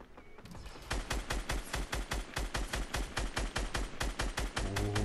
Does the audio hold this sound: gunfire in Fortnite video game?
yes